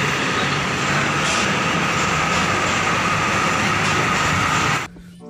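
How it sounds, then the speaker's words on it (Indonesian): A bus passes close by on a road, a loud, steady engine and tyre roar that holds evenly, then cuts off abruptly near the end. "Oh, mobil bus teman-teman."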